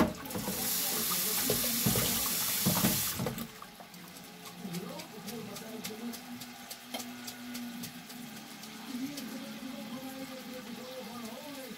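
A kitchen tap runs hard over cooked instant noodles being rinsed in cold water, a steady rushing splash that gives way to softer dripping and clatter while someone talks.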